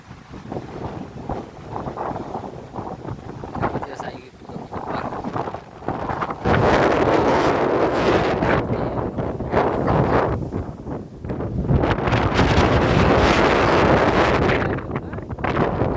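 Strong wind blasts during a rainstorm, buffeting the microphone with loud gusty roaring that builds and stays heavy through the second half, with no talk heard.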